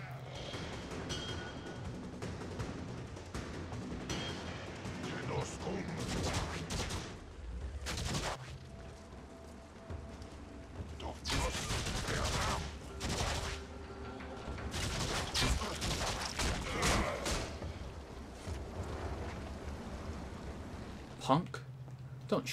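Assault rifle fire in the Warframe video game during an Interception mission, with dense bursts and volleys crackling almost continuously alongside booms and thuds, while a voice talks over the chaotic combat.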